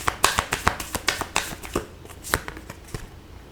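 Tarot cards are shuffled and drawn at close range, a run of crisp, quick riffling snaps and flicks at an irregular pace that thins out toward the end, with no voices over them.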